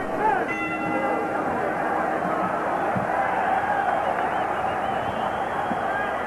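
A packed boxing arena crowd roars in a continuous loud wall of noise throughout, with a bell clanging near the start and a commentator's voice running over it.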